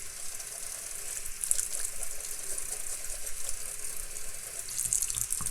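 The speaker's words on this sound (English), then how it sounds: "rinse that bad boy out" Steady running tap water splashing into a sink as a makeup brush is rinsed, a continuous close hiss with small fluctuations and no talk.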